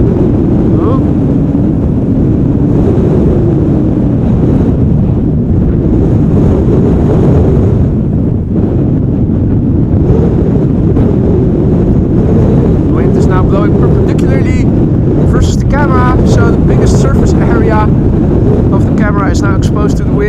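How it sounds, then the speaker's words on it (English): Strong, constant wind at Amsterdam Schiphol Airport blasts the microphone with loud, low rumbling buffeting. A person talks underneath in places, and louder gusts and crackles come near the end. "Is now exposed to the wind, making it a bit hard to keep the shot steady."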